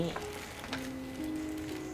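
Steady sizzling and crackling of pork on a hot tabletop grill, close and continuous, with faint clinks and a brief murmur.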